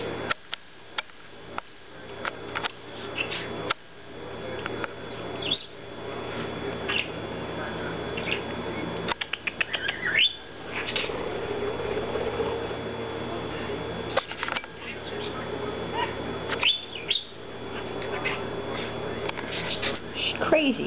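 A pet bird chirps in short, scattered high calls throughout, mostly faint, while a person talks softly near it and other small handling noises come and go.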